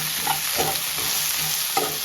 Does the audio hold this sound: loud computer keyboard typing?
no